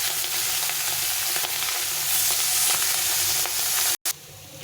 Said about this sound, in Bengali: কড়াটা ভালো করে গরম করে নিয়েছি, এখন মাছগুলো আমি দিয়ে দিচ্ছি